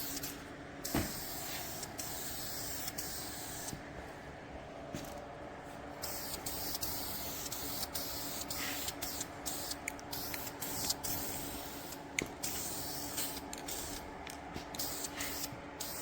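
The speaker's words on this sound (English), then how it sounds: "Isn't this satisfying, watching this paint get laid down?" Paint sprays onto a part from a 1966 Dodge Charger in quiet bursts of airy hiss, starting and stopping repeatedly, with a faint steady background hum and no one talking.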